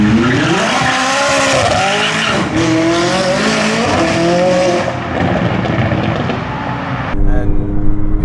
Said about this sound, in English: So if you smash the gas, you can do one of them nice little cool rolling burnouts.